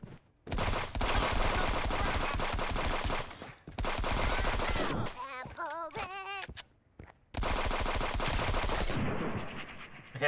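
Rapid automatic gunfire from poison-bullet weapons in the video game Friends vs Friends, loud dense bursts with short breaks and a few warbling electronic effects between volleys.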